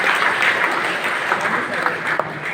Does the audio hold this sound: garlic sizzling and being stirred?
no